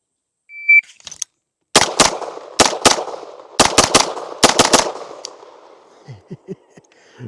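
Gunfire from a MAT9 roller-delayed pistol-caliber carbine, run suppressed on a range: a shot-timer beep, then loud sharp reports in quick pairs and bursts across a few seconds, followed by faint clinks.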